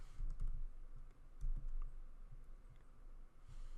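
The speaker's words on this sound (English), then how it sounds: "I'm going to type in regular," Quiet clicks of a computer keyboard come in short bursts, a few quick keystrokes tapped at a moderate distance over a low room hum.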